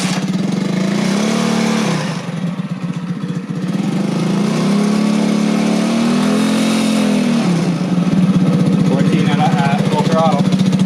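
A small Honda CT90 motorcycle engine runs steadily and close, with its pitch rising and falling as it revs; a voice speaks briefly near the end.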